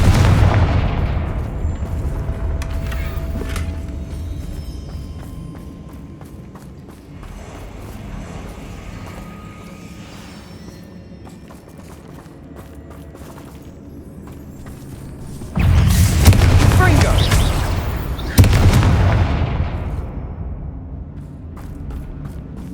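Confringo fire-blast spells explode inside a mine in Hogwarts Legacy, with loud booming blasts at the start and two more heavy bursts later, separated by a long, quieter stretch of rumbling ambience.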